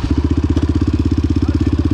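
A motorcycle engine, a KTM or Yamaha, held under steady throttle with a fast, even pulsing firing rhythm, loud and close throughout with no other sounds.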